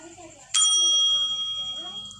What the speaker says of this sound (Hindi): फिर उसने घंटी बजाई।